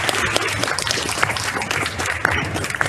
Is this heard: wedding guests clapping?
yes